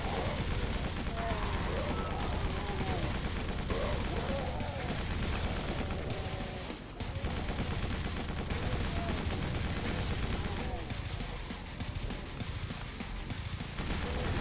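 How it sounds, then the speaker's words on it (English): Machine gun firing in the Doom video game, a fairly faint, continuous rattle of rapid shots running under steady game noise for the whole stretch. "Machine gun."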